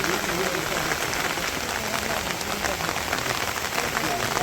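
Rain falling in a village, a dense, steady hiss of drops on surfaces that stays loud and close for the whole stretch, with no voices.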